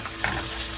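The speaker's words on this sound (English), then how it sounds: "So you hear that sizzling." Bacon cheeseburger patties sizzle in a hot pan, a steady close crackling hiss with no talking.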